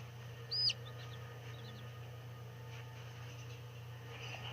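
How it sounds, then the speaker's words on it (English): A chickadee gives one short, bright chirp, followed by a few faint tweets against a quiet, humming background. "Oh, cute little chickadee."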